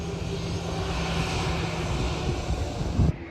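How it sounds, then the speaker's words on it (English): A TUI airliner departs Phuket airport, its engines giving a steady loud roar and whine that holds throughout, with a brief thump near the end. "Oh, TUI departing, and all the heavy is parked here."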